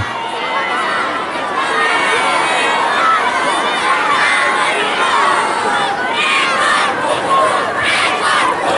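Spectators at a Gayo Lues match roar and shout continuously, a dense, loud crowd din with overlapping cries throughout, and someone speaks over a public address.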